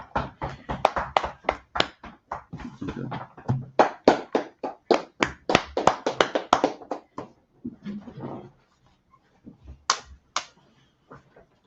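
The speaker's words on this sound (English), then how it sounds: "Clap it up." A group of people claps their hands in quick, uneven bursts that fade toward the end, with one brief word spoken.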